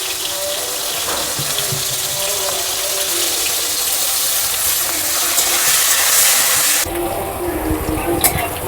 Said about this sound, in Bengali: এবার ভেজে নেব কেটে রাখা করলাগুলো